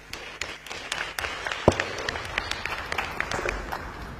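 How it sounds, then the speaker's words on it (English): A conference audience applauds the panelists at a climate action and disaster prevention media summit, scattered uneven claps from a modest crowd in a hall, moderately loud and continuing for several seconds. "A big round of applause for our panelists."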